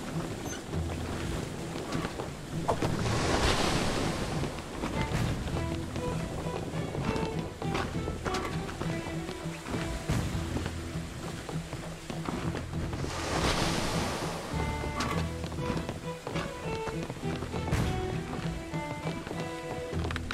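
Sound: wind and waves in video game Blazing Sails

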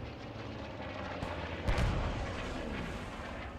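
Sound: bomb explosion in video game Post Scriptum

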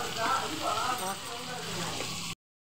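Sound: sautéing ingredients in a pan for bread fry

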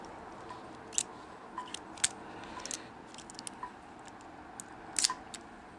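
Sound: closing the locking blades of a Leatherman OHT multitool

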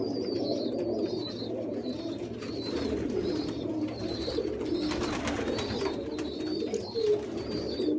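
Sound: pigeons cooing in a loft

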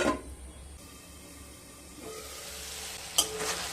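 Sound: spices sautéed with water in a pan for papaya lentil dal

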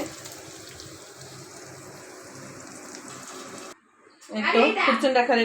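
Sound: water running while washing kitchen items

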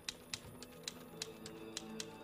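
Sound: typing on a keyboard or typewriter, TV episode

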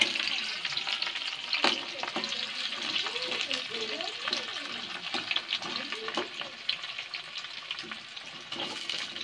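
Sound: onions frying in oil in a wok

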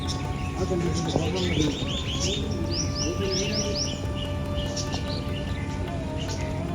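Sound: peacocks and other birds calling

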